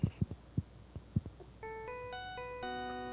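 A phone ringtone in a game scene: a bright, steady electronic melody of stepped tones begins partway through, following several soft thumping beats, and rings on clearly to the end.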